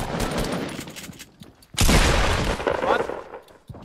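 A heavy-shot weapon fires in a video game: after a quieter stretch of game noise, a loud, dense burst of rapid gunfire erupts and rattles on for nearly two seconds before cutting off.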